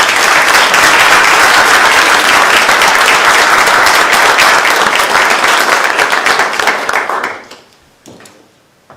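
Loud, sustained audience applause welcoming Senator Dawn Guile at a Maryland event for military families, steady dense clapping for about seven seconds before quickly fading out into a few scattered claps.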